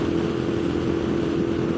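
A 2015 Moto Guzzi V7 mk2 750cc transverse 90-degree V-twin with shaft drive, ridden at about 5,200 RPM near 86–88 mph, gives a smooth, steady engine drone under rushing wind, loud and continuous, with no voices.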